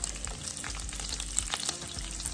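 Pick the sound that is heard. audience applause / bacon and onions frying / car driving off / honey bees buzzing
bacon and onions frying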